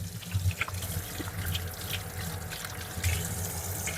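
Water runs from a tap in a house in Depok, a steady splashing flow with small gurgles and knocks, moderately close.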